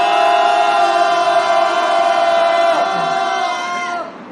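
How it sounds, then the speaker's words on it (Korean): Protesters at a candlelight rally in Korea shout together in one loud, sustained roar aimed at a nearby official residence, holding steady for about four seconds before dropping away. "우리 다 같이 저기 관저까지 들리도록 함성을 크게 외쳐보겠습니다"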